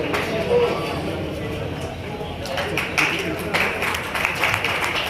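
Scattered clapping from an audience at a community gathering picks up partway through, mixed with a steady murmur of crowd noise.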